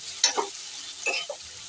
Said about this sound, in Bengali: তো দেখো পেঁয়াজটা এখানে ভাজা হচ্ছে